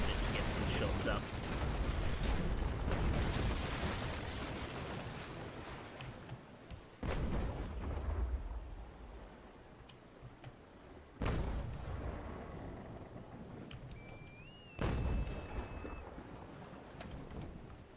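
Cannon fire from sailing warships in the Naval Action game, several deep booming broadsides at intervals, each with a sharp onset and a long rumbling decay, over a constant background of wind and sea.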